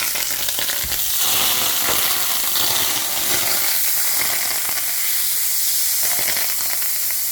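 Oil and a generous amount of butter fry in a hot stainless steel pan with a loud, constant crackling sizzle and bursts of spattering throughout.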